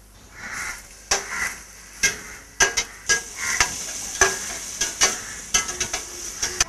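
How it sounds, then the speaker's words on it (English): Onions sizzle in hot oil with clove, cardamom and cinnamon for potato masala, a soft frying hiss broken by a series of sharp stirring scrapes and clicks from a utensil against the pan. "I'm going to add a cup of onions."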